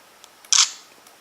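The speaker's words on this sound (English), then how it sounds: "push the shutter button down halfway, it focuses, and" A Nikon Coolpix S4100 compact camera gives a faint focus tick followed by a single sharp electronic shutter click, close and isolated in a quiet room.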